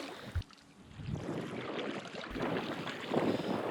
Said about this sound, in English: the wind has picked up definitely